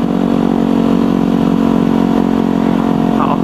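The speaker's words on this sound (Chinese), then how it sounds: "降1档，然后离合器放开补油" A motorcycle engine runs steadily and close by, a constant mid-pitched drone with a slight rise near the end that may be a throttle blip during a downshift with the clutch released.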